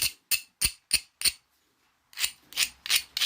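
Glass or obsidian edge being ground during flintknapping: five short, evenly spaced rasping strokes, a brief pause, then four more longer scraping strokes, close and crisp with no talk.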